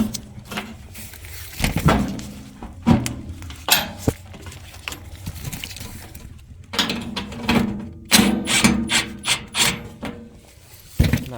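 Screws and bolts being refitted into a Trane AC unit blower assembly during an OEM blower wheel and motor replacement, heard as scattered metallic clinks, scrapes and handling knocks, close and irregular with bursts of activity.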